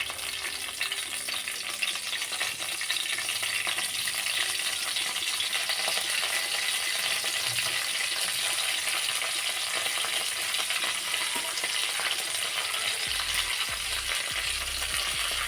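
Curry leaves sizzle and crackle in a spoonful of hot oil in a masala-coated pan for soya chunks curry. The frying hiss is steady and close throughout, with a few faint utensil clinks and no voices.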